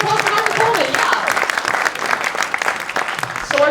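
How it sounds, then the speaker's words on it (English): Audience clapping for an introduced guest at an evening event, a dense burst of applause throughout with a voice briefly audible over it. "Give a round of applause for Dr. Coleman"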